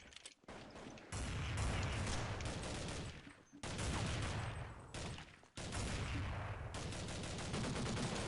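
Automatic gunfire in Counter-Strike 1.6: loud, dense bursts of rapid shots fill most of the stretch, broken by a few brief pauses.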